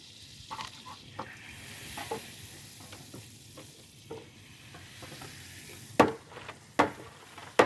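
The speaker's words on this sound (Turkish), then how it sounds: "O çalışma ben de yemek yapıyorum." Food sizzles in a pan during outdoor cooking at a picnic-style gathering, with steady frying hiss and scraping stirs, then several sharp, louder clanks of the utensil against the pan near the end; no talking.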